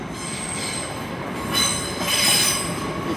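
A Great Western Railway train, unit 802113, departs London Paddington for Oxford, with a loud, continuous rumble and shrill wheel squeals that rise and fall in two strong surges.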